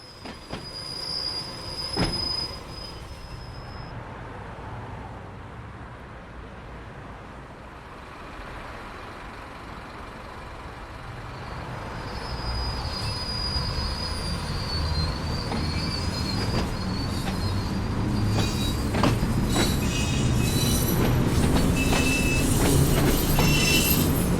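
Class 483 unit 006, a veteran 1938-stock electric train bound for Shanklin, arriving into Ryde Esplanade: it starts faint and distant, then grows louder with rumbling wheels, clicking rail joints and high squealing flange whine as it draws near.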